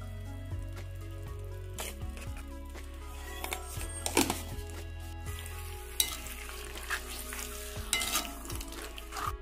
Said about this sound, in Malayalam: നന്നായിട്ടൊന്ന് മിക്സ് ചെയ്ത് കൊടുക്കണം.